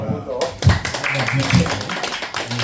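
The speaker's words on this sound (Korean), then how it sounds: "박수 박수" Congregation applauding during a church worship service, scattered claps and taps mixed in with a speaking voice throughout.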